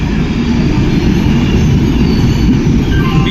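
An Indian AC passenger train running on rails makes a loud, steady rumble inside the carriage, with wheel noise and faint squeals throughout and no speech.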